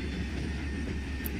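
A train races at high speed past crop fields and a tree garden, producing a steady, loud broadband rush and low rumble with no breaks.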